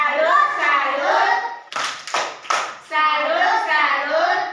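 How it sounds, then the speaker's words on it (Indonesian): Children's voices chant in unison, broken by a short burst of sharp, rhythmic hand claps before the chanting resumes, a close classroom-style clapping chant. "Kita memberikan tepuk salut."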